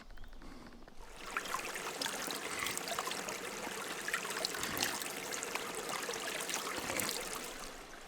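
A small, clear stream runs under wooden duckboards on a hiking trail at Koli, Finland, giving a steady close trickle and babble that continues alone for several seconds.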